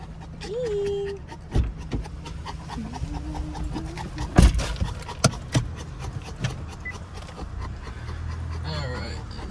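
A large white fluffy mountain dog, a 120-pound one-year-old, pants and snuffles close by inside a car, with soft whines, thumps and rustling as people talk nearby.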